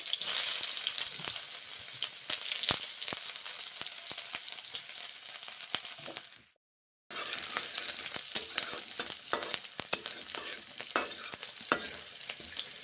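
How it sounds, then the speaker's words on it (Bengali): Onions frying in hot oil for a snail (googli) curry, a dense, continuous crackling sizzle with frequent stirring scrapes, briefly cutting out midway before resuming just as busy; close and fairly loud, with no speech. "তেল গরম হয়ে গেছে পেঁয়াজগুলো ভেজে নিচ্ছি"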